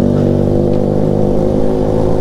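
A motorcycle revs loudly nearby with a steady, dense engine drone that holds throughout, no voices.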